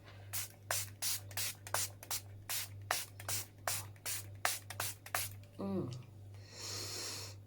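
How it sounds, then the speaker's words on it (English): A rapid series of about fifteen short bursts of face setting spray in steady rhythm, close and fairly loud, with a low hum underneath and a longer hiss at the end. "for my face, I'm going to spray it."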